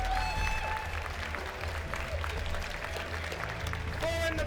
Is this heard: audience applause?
yes